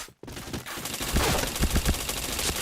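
Gunfire in the shooter game Point Blank: rapid bursts of automatic fire crack after a brief silent gap, loud and dense, with several sharp shots standing out near the end and no voice over them.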